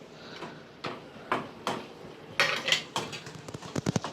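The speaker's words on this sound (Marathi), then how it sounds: "फिश टाकून घेऊया" Pieces of surmai fish go into a pot of Malvani curry masala, making a series of sharp clinks and knocks of utensils against the pot, loud and close, with no voices.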